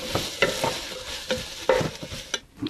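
Green peppers for a vegan chili are stirred in a hot pan, giving a sequence of sharp scraping stirs over a steady soft sizzle, close and fairly loud.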